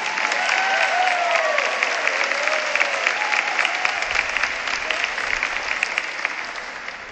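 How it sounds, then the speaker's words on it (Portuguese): Congregation at an Augustinian Recollect episcopal ordination breaks into warm, sustained applause, a broad, even roar of many hands that stays strong throughout and thins slightly toward the end, with faint crowd voices mixed in. "Don Jesús Moraza, que merece también una batida de palmas"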